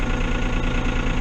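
Diesel engine on cold farm equipment idling to warm up, a steady loud throbbing chug with regular low knocking pulses, close by and without talk.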